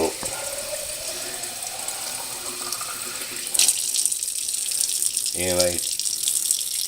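Water from an 8-ounce bottle is poured for bread dough, a steady hiss and splash that runs throughout, with a brief gurgle near the end and one spoken word.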